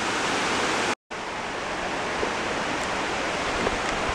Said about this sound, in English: This is the main waterfall, but there are multiple falls.